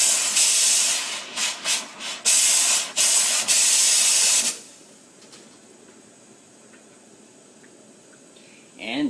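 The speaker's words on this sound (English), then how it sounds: "don't forget to clean the steam wand once you're done." Steam wand of a coffee machine hissing loudly in bursts during cleaning, several sharp blasts over the first half, then quiet with only a faint background hum and a brief sound near the end.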